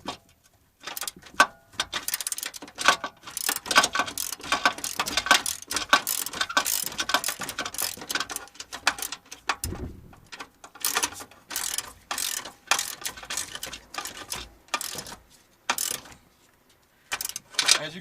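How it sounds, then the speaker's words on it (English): Bolts being tightened during an air-ride compressor install on a 2007 Chevy Suburban, with repeated bursts of close ratchet clicking separated by brief pauses. "All you got to do is tighten up the bolts."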